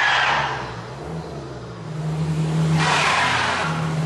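A car on an icy surface with traction control switched off, engine droning steadily while tires hiss and spin in two loud bursts, with no voices.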